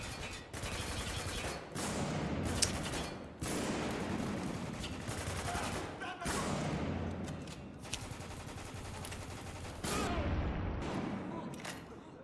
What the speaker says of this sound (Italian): Ricarico e sparo a questi...